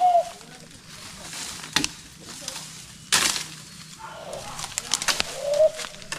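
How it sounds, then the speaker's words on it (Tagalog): Pigeons or doves coo softly beside the chirps and calls of other birds outdoors, while people talk over them. Several short sharp knocks or taps break in now and then. "Huning ng mga ibon."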